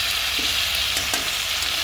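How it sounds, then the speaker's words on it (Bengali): Spice paste sizzles steadily in a pan just after water goes in, a loud, continuous frying hiss up close with faint stirring scrapes. "একটু জল দিয়ে দিলাম মশলাটা ভালো করে ভাজা হয়"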